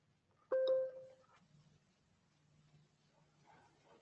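A phone alert sounds during an online chemistry class: a short, loud electronic tone burst near the start, then fading to quiet background hum.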